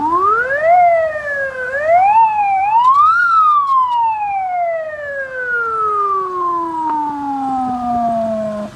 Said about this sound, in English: this first siren sound is called a wail or wailing sound